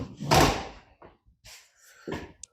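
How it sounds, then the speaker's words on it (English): A door is pushed shut with a solid thud, followed by a couple of softer knocks and a latch click, close by in a quiet room with no talking. "Let me shut the door."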